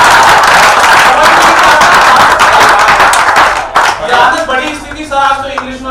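A large audience at a Hindi talk claps loudly and densely for several seconds, then the applause drops away and a voice takes over, with scattered claps lingering underneath.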